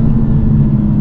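A Mercedes CLA45 S AMG four-cylinder engine revving toward 7,000 RPM, a steady, loud drone with a low rumbling tone, held briefly without pause.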